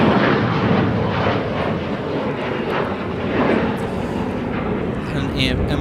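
A SkyWest Embraer E175 regional jet roars steadily at Minneapolis–St. Paul Airport, a broad, loud engine noise that holds throughout with a voice talking over it.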